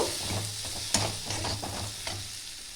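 Spices and a little salt sizzle steadily in a hot frying pan as a spatula stirs and scrapes, a continuous close frying hiss with rhythmic stirring strokes and no voices.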